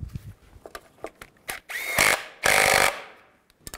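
A handheld power tool drives bolts on the turbocharger bracket of a 2007–2013 Mini Cooper S, firing in two short loud bursts after scattered clicks and ratchet taps, close up.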